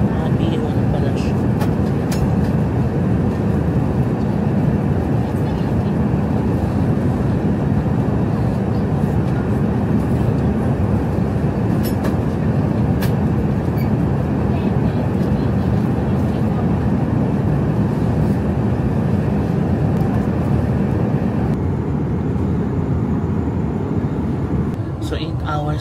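Steady, loud, unbroken roar of a Singapore Airlines jet cabin in cruise flight, a dense low rumble with a broadband hiss that holds for the whole stretch.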